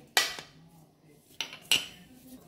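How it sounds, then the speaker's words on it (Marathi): A spoon clinks sharply against a metal bowl three times while ground flour is mixed with chili flakes for paratha dough. The knocks are close and fairly soft, and a faint scraping runs between them. "घालून न्ही ताका पयलीं बरें मिक्स करून घेवया"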